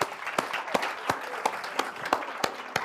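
Audience applause for the president of the African National Congress at a conversation event: a thin, sparse patter of claps with several sharp individual claps standing out, steady and fairly close, with no talk.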